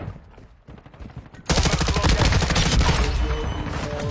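Gunfire in a smoky online shooter game: after a quiet moment, a sustained loud burst of rapid automatic fire erupts and keeps rattling close and dense to the end.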